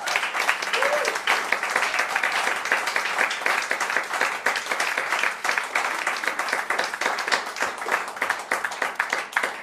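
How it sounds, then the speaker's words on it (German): A crowd claps steadily and loudly, dense applause filling the whole stretch without pause. "das ist ein Applaus wert, sowas."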